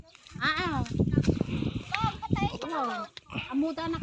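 Pig oinks and grunts come in short bursts, mixed with people talking nearby.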